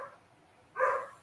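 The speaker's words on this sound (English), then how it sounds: "I apologize if you hear my dog in the background" A dog barks twice in the background, a faint yip at the start followed by one sharper, louder bark near the end in an otherwise quiet room.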